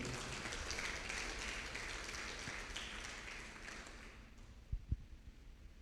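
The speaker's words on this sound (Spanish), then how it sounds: "démosle un fuerte aplauso al Señor" A church congregation claps in a dense, moderately loud burst that thins out and dies away near the end, followed by a couple of sharp low thumps.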